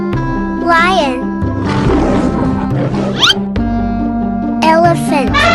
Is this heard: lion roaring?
yes